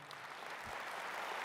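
An indoor crowd at a political rally claps in a dense, continuous patter that carries at a moderate level through the whole short moment.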